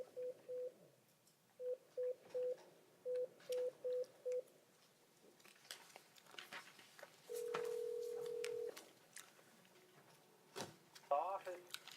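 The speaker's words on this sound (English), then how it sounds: "let me see if I can get him on the phone" A phone is dialed from a courtroom, with clusters of short touch-tone beeps followed by a longer ringback tone, all faint under low room noise and a few brief muffled voices.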